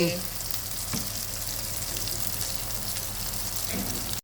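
Octopus frying on a hot tawa pan gives a steady, loud sizzle throughout, with faint scraping as it is spread and stirred.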